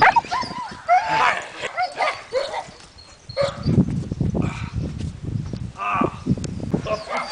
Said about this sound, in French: Vous allez voir ce que c'est qu'un pitbull agressif.